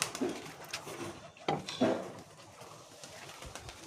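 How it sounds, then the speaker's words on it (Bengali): Pigeons coo in short, close bursts around fluttering wing movement as a pair of birds takes off, with a faint voice murmuring in the background. "দুটো পায়রা উড়ে গেল গাইস, একাই উড়ে গেল।"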